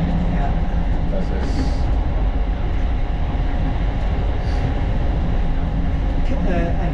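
A Tatra T4 heritage tram runs through the streets of Halle, Germany, with a loud, steady rolling rumble and rail noise, plus a couple of faint squeals and high hisses along the way.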